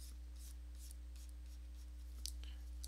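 A stylus sketches on a drawing tablet with faint, soft strokes in short bursts over a steady low electrical hum, inking a Spider-Man figure's leg.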